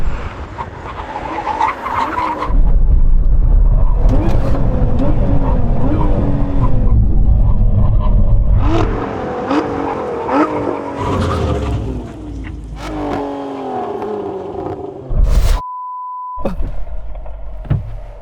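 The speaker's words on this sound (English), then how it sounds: "we're at 100 mile an hour now. Get ready for the big old brake." In a drag race between a Nissan Z, Lotus Emira, Toyota GR Supra and Porsche Cayman GT4, the cars brake hard from 100 mph with roaring engines, downshifts and squealing tires. The noise fades toward the end, and a sharp radio beep cuts in.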